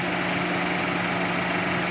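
A Chevrolet Orlando with 2,157 km on it idles with its engine running. The hum is steady and unbroken, close and fairly loud, and no one speaks.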